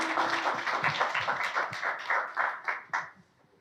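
A lecture audience applauds a woman from the floor, a brief round of hand clapping with distinct individual claps that swells and then trails off after a few seconds.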